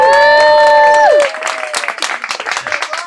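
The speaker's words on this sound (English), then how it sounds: "Can I have one more applause for my great cast?" Audience applause and cheering for the cast of an Earth Day stage performance of 'Neverland', rising after a sustained sung or held tonal note ends, then continuing in uneven bursts.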